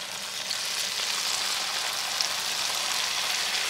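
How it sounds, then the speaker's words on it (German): Aubergine pieces frying in hot oil in a pan, a steady dense sizzle and crackle that runs continuously and fairly loud, close up, with no talking. "Jetzt wird frittiert."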